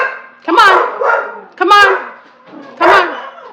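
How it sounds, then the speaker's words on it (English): Three loud, separate hound barks close by, each a sharp harmonic yelp trailing off, spaced about a second apart. "Okay, stop barking."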